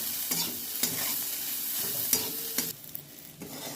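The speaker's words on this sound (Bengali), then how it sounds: "এই যে আমি এটাকে ভেজে নিচ্ছি যে পেঁয়াজটা একটু নরম হয়ে যাচ্ছে" Prawn heads fry with onion and garlic in a pan, a quiet continuous sizzle punctuated by regular scraping strokes of a spatula, with no talking.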